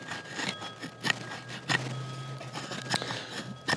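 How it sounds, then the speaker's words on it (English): A Camillus Swedge knife carves curls from fatwood, giving close, steady scraping and rasping strokes with short sharper catches as the blade bites the resinous wood. "Let's carve us a few Fatwood curls."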